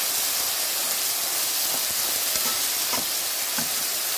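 Food cooking under a lid in a covered pan gives a steady, close hiss of steam and sizzle that runs throughout, with a few faint soft ticks and pops scattered through it.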